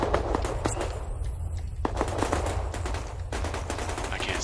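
Video game gunfire aimed at a patrol helicopter, rapid bursts of automatic shots over a constant low rumble, a brief quieter gap midway, then firing resumes, no talking.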